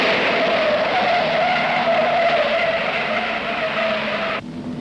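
Holden Monaro race cars competing in the 1968 Hardie-Ferodo 500, a loud sustained engine roar with a wavering high tone that cuts off sharply near the end, leaving a quieter rumble.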